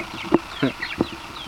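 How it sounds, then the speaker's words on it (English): A few short clucks from chickens close by, spaced irregularly over a soft, quiet background. "Look at those starving, hungry chickens."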